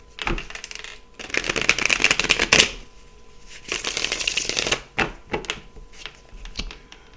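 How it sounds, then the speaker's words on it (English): A deck of large oracle cards is shuffled close by, giving two long bursts of riffling and flapping followed by a few separate taps and slaps as the cards are squared and cut. "Give it another shuffle, Spirit said, then cut it"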